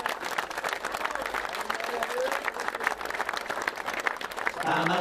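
Crowd applauding the vice-champions at a French pétanque triplettes championship, Jeu Provençal, in Pierrefeu, a lively spread of clapping with some voices mixed in, and a sung tune entering near the end.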